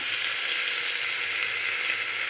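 Onion, ginger paste, turmeric and chopped tomatoes frying for a chicken stew, giving a steady, dense sizzle that holds up close and loud from start to finish with no voice over it.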